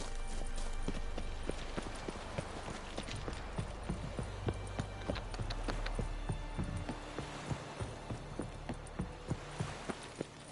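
The horse Roach gallops in The Witcher 3 video game, hooves clip-clopping in a steady, fast rhythm over a dense background of game music and ambience.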